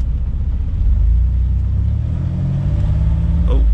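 A lifted Chevy Astro van in 4 low and first gear pulls away with a loud, close engine rumble building steadily toward about 2,000 RPM, with no talk.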